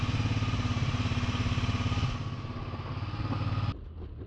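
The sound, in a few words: Massimo GKM 200 200cc go kart engine running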